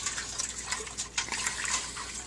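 Warm sweetened tea for kombucha is poured into a jar, making a close, steady splashing trickle of liquid throughout, with no talking.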